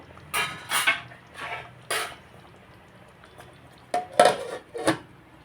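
A plate is set over a pot of fish curry on a slow flame: a few separate clinks and clatters of crockery against metal, close by, with quiet gaps between them.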